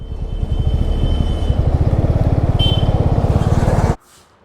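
Motorcycle idling close by with a fast, steady thumping exhaust putter and a brief throttle blip, then the engine cuts off abruptly, leaving near silence.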